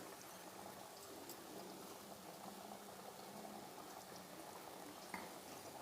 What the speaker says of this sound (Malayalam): നന്നായിട്ടൊന്ന് തിളച്ച് വരട്ടെ.